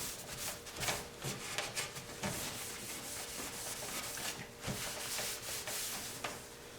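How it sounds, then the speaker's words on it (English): A cloth rubs over a fiberglass bumper wet with acetone, giving a steady, close swishing with repeated back-and-forth strokes and small scuffs, quiet and with no talk. "So now I'm just using a little acetone to wipe this area down."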